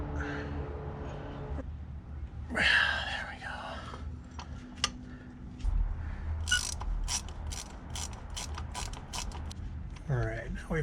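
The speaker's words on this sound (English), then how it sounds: "The best wrench for getting these out is just a nice long box wrench." Long six-point box wrench loosening driveshaft bolts under a Toyota during a carrier bearing replacement, with close clicking and ratcheting metal bursts and scrapes, some faint creaks, and brief speech between the tool sounds.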